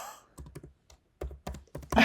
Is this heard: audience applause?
no